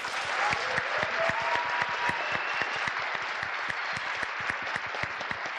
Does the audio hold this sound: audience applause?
yes